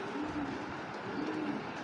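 A cheetah-patterned male and female pair of Giribaz pigeons gives two soft, low cooing phrases, fairly faint against a quiet background.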